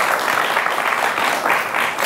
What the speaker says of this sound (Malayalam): ഇത് ചെറിയ കാര്യമല്ല, ഒന്ന് കൈയടിച്ചു കൊടുത്ത്